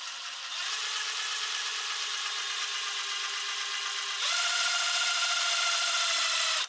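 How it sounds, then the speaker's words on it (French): An impact wrench turns a VW Golf VR6 engine counterclockwise, running as a continuous close whirring drone that steps up in pitch and loudness partway through, then cuts off at the end. "Je vais prendre la clé à choc pour pouvoir entraîner de manière anti-horaire l'entraîneur"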